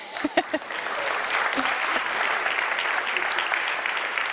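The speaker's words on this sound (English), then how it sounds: "Did anybody not clap for my husband" An audience at a Liberty & Love of Country event breaks into steady, sustained applause that fills the hall, with a few louder claps at the start and no speech over it.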